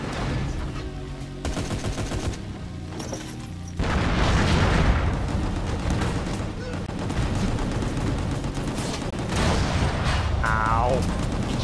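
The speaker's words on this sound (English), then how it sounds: "He killed himself with the rocket launcher." Rocket launcher explosions and heavy gunfire in GunGrave G.O.R.E, a chaotic stretch of booms and rapid shots, loud and dense, with a voice talking over the action.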